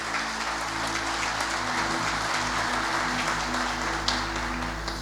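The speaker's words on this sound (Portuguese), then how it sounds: "Eu quero uma salva de palmas para Jesus." A church congregation claps in sustained, dense applause, a steady wash of hands from a large crowd with a low hum running underneath, holding even throughout.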